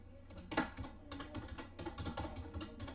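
A name is typed on a computer keyboard, giving a close run of fast, uneven key clicks with one louder keystroke near the start.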